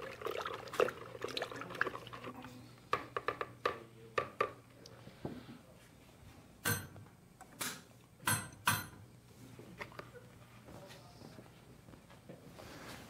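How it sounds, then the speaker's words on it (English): Sugar-water mixture poured into an ice cream machine while making Bailey's cream ice cream, heard as a run of close liquid splashes and drips with irregular clinks, fairly quiet, with no talking. "So we'll add this sugar-water mixture."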